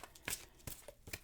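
Angel Oracle cards are shuffled in a few quick, soft riffling bursts, close and quiet, with no voices.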